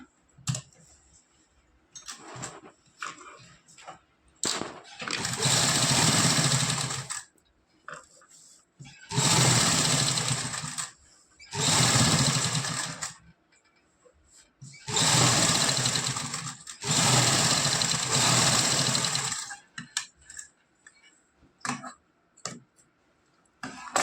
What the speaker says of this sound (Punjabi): ਇਹਨੂੰ ਆਪਾਂ ਪਹਿਲਾਂ ਕੱਚੀ ਸਲਾਈ ਲਗਾ ਲਾਂਗੇ ਇਸ ਤਰ੍ਹਾਂ